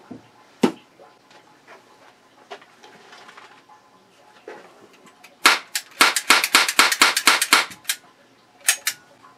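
Gunshots fired in a quick rapid string of sharp cracks, with a lone shot earlier and two more after a pause, loud and close with quiet stretches between.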